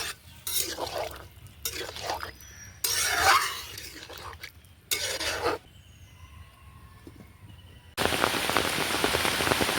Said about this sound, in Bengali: প্রচণ্ড বৃষ্টি শুরু হয়ে গেছে।